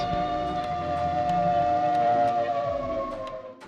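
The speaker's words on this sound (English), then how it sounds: "The air raid siren could be sounded in the day or in the middle of the night." A WWII air raid siren wails in a steady sustained tone that sags slightly in pitch near the end, moderately distant and alone.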